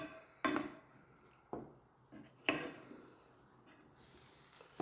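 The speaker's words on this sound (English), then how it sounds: "just take your spoon and kind of stir it around in there" A spoon knocks and scrapes in a pan of sauce for hamburger steak, giving a few sharp, close clinks at uneven intervals with quiet pauses between them.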